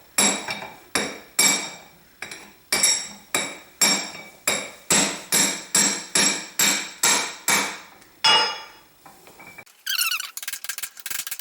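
Steady, ringing hammer blows on metal, about fifteen evenly spaced strikes, close and loud, followed by a brief scraping clatter and a high metallic rattle.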